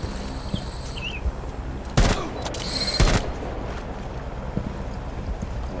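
Gunfire in the tactical shooter Rainbow Six Siege: two loud, sharp shots about a second apart, standing out over a busy game background.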